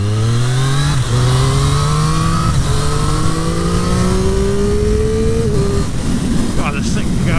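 A 2023 Triumph Street Triple 765 RS motorcycle accelerates hard, its engine note climbing steadily through the gears with brief shifts, loud and close under heavy wind roar.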